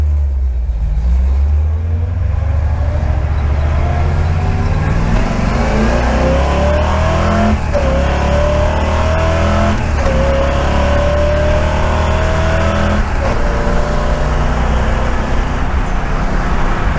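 A car fitted with an unreinforced roll cage driven loudly, its engine revving and pulling through several gear changes over constant heavy road and cabin noise, heard from close inside.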